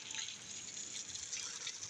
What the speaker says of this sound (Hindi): अभी जो है ना पानी लगा रहे हैं इसको।